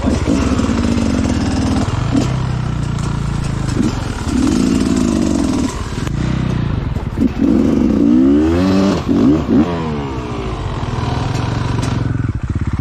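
Enduro motorcycle engine revving and accelerating up close on muddy forest trails, a continuous loud drone with rising and falling pitch sweeps.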